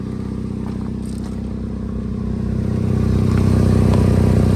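A 2008 Pontiac G6's 2.4 liter engine runs at a steady, loud idle, a dense low rumble that swells slightly toward the end.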